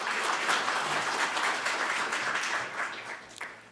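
An audience at a Buddhist spring dharma service at the National Assembly gives sustained applause. The hall-wide clapping stays full and even for nearly four seconds, then thins toward the end.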